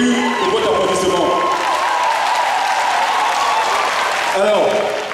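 A conference audience in Benin keeps up loud, continuous applause mixed with crowd noise, while a speaker talks over the clapping at the beginning and again toward the end.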